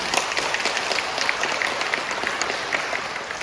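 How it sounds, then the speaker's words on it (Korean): An audience at a lecture on Korean Catholic martyrs applauds steadily. Dense, even clapping from a crowd continues throughout at a constant level, with no voices over it. "박수합니다."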